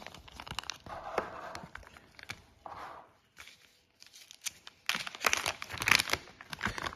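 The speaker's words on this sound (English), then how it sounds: "let's get the adapter out of the plastic" Plastic packaging around a Western Digital USB to SATA adapter crinkling and rustling up close in irregular bursts, with a brief lull midway and louder crackling toward the end, no speech.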